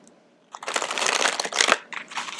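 Oracle animal cards are shuffled by hand in a short, close, crisp rustling burst of riffling card stock, with a brief pause before a final few flicks.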